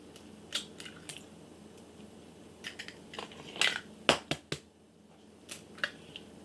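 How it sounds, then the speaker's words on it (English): Farm-fresh eggs from backyard hens cracked one after another into a bowl, giving a series of sharp, close taps and crunchy shell breaks with short pauses between them. "We're going to crack the 7 eggs they gave us yesterday"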